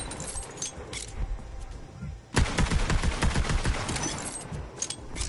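Rapid bursts of gunfire from a gun in the video game Borderlands, a dense rattling volley that starts abruptly partway through and continues loudly to the end, after softer scattered shots.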